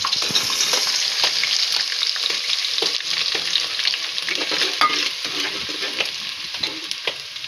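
Green garlic, green chillies and onion frying in an oiled pan, a loud continuous close sizzle with scattered crackles and the scrape of stirring, no voices.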